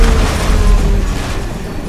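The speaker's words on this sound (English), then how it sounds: "I do like the explosions in this game." A caravan explodes in Grand Theft Auto V, a loud, sustained, rumbling blast with a heavy low roar that fills the whole moment, with no talk over it.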